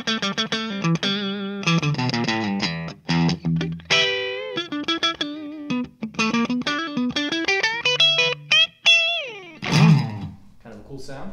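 Electric guitar with two humbuckers in the middle position, out of phase for a nasal, quacky tone, playing a loud, continuous run of single notes and chords with some distortion, alone with no talk.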